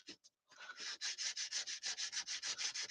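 Sandpaper rubbing back and forth along the edges of a painting, a close, rhythmic scratchy sanding in even strokes with brief pauses at the start.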